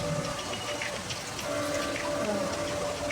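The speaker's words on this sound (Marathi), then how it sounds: "ताट झाकून याच्यावर परत आपण आणखी पाणी घालून घेणार आहे" Water poured onto a plate set as a lid over mutton cooking in a pot, a continuous close splashing trickle with watery hiss throughout and no speech.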